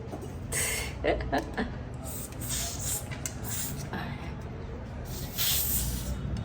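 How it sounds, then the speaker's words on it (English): Several short spray bursts hiss in quick succession, with a longer spray near the end, close up over a faint background. "You can actually spray in your hair too."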